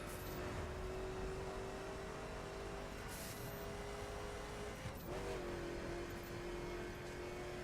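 A car engine in the racing video game The Crew drones steadily at a sustained pitch, dipping briefly midway as if shifting gear before settling again, fairly quiet and without any talk.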